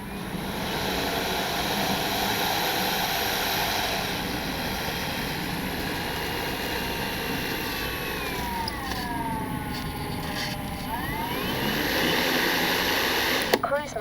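A Grand Tundra radio-controlled airplane drones steadily overhead in cruise mode, a continuous engine hum with pitch sweeps as it passes, moderately loud, with someone talking over it.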